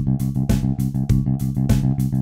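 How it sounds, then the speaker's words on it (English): A bass guitar plays even sixteenth notes across one bar, a tight run of short, rhythmic plucked notes with no talking. "If I was to play every 16th in a bar, it would sound like this."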